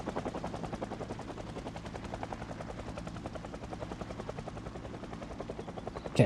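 A helicopter in the video game Project Zomboid thumps steadily overhead, its rotor beating in a fast, even rhythm at moderate loudness throughout.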